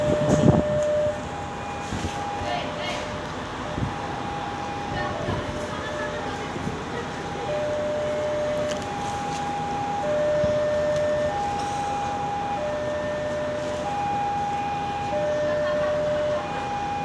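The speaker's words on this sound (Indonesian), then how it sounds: "Oke, segera masuk kereta api Ranggajati." The Ranggajati train pulls into Purwosari station in Indonesia, a steady low rumble with a looping two-tone station chime repeating throughout, loud and continuous.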